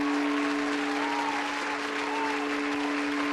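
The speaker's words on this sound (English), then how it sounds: "Maybe applause would be good." A steady applause sound effect plays, dense even clapping from a crowd with a faint steady hum underneath, alone without talk.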